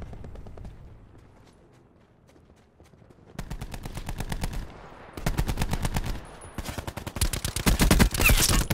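Rapid automatic gunfire from Call of Duty Blackout, a battle royale shooter: quiet at first, then loud sustained bursts of dense shots that come in waves and build toward the end.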